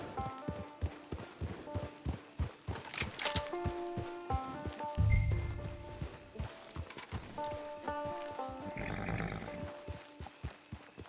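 A horse in Red Dead Redemption 2 walks with steady, rhythmic clip-clopping hoofbeats, close and clear, over soft sustained musical tones and brief bursts of noise.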